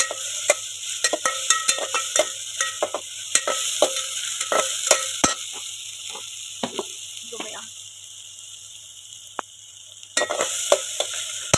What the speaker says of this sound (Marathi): आपण कडीपत्ता पण ह्याच्यात टाकून घेऊया